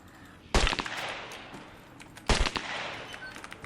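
Two sharp bursts of pistol fire in the game SCUM, about two seconds apart, each a loud crack with a short rattling tail over a steady hiss of game background noise.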